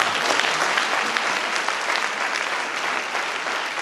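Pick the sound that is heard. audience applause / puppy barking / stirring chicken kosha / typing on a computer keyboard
audience applause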